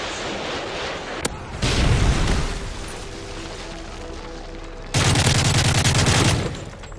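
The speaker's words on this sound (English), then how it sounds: "Friendly Predator missile inbound." A Predator missile strike in Call of Duty Modern Warfare 3 on the Lockdown map hits with a loud explosive roar and rumble, followed later by a second sustained blast of crackling gunfire and explosions amid gameplay noise.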